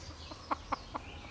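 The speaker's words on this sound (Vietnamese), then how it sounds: "Gà này là gà ta chính hiệu." A local hen sitting on an outdoor nest under an orchid pot gives three soft, close clucks in quick succession over a quiet background.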